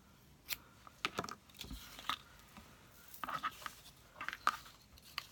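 Scissors snipping the end of a tied string on a handmade paper gift tag: a few quiet, close, crisp cuts with light rustling between them.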